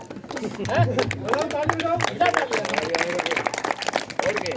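An audience claps for children receiving awards at a ceremony in Haluheda, Rewari, Haryana: a few seconds of scattered, uneven hand claps, close and fairly loud, with a voice speaking over them.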